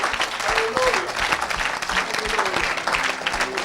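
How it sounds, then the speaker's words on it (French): A church congregation applauds together in a dense, steady burst of clapping, with voices calling out beneath it. "Oh, acclame pour Jésus."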